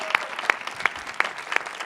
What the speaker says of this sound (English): let's make a bigger round of applause